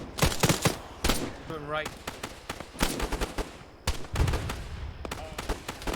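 Rapid bursts of automatic gunfire and sharp single shots crackle through a military video game firefight, loud and near, with radio-style voices talking over the shooting.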